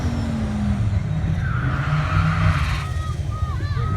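Cars racing and sliding sideways at a Chevy Caprice donk and drag race event, engines roaring with rising tire squeals and skids, loud and continuous, with crowd voices talking underneath.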